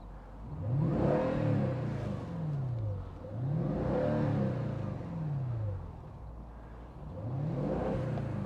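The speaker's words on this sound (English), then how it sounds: "engine noise, exhaust note, whatever you want to say." A deep, throaty 2010 Mercedes-Benz E500 5.5 V8 Cabriolet engine revs and rises in waves, exhaust burbling loudly, three surging pulls with brief dips between them; no talking.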